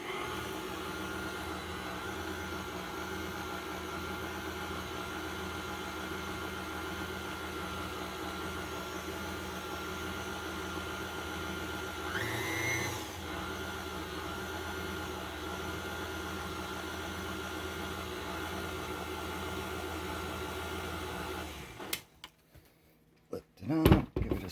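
Electric mixer blending cheesecake batter with sour cream runs as a steady, even whir for about twenty seconds, one brief scraping change midway, then cuts off into a few clattering knocks.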